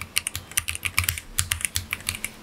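Rapid keystrokes on an ROG Azoth wireless gaming keyboard, a steady run of bright, high-pitched clicky taps close to the mic, with no voices.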